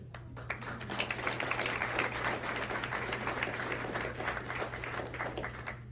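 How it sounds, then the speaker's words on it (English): An audience at a school board meeting applauds to honor a girls basketball team and their coach, a full, lively burst of many hands clapping continuously over a low steady hum. "let's give them a round of applause"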